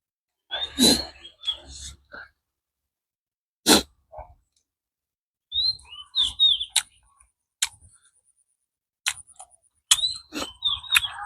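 Sharp, high bird calls ring out in scattered short bursts between silences, some chirps repeated quickly, with low rustling handling noise mixed in.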